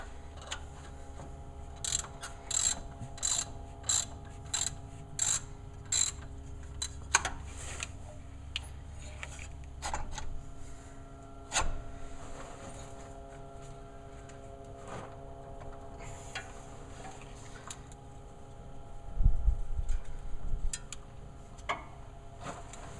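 Repeated mechanical clicks and ratcheting ticks come in short irregular bursts at close range as a bolt is tightened by hand on a 1977 Chevy Scottsdale K10, with a faint steady hum beneath.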